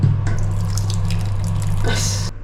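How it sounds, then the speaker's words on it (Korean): Weak trickle of water from a faucet in a Vang Vieng, Laos bathroom with low water pressure, a steady thin splashing stream that swells briefly near the end. "물이 어쩜 저렇게 쫄쫄쫄 나와요?"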